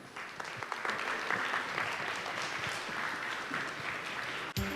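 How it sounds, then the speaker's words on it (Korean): Sustained audience applause welcoming a professor onto the stage at a Korean public science lecture, a dense steady clatter of many hands holding for several seconds before cutting off abruptly near the end. "큰 박수로 맞이해 주시기 바랍니다"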